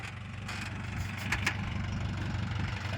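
A diesel car idles steadily during a driving lesson while reversing, a low continuous engine rumble close by with a couple of brief higher clicks partway through.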